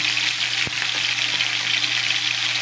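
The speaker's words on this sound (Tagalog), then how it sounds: "So, hulog na natin yung sibuyas." Onion drops into hot oil with already browned garlic for ginisang ampalaya, producing a loud, steady close sizzle that runs unbroken, marked by one brief click near the start.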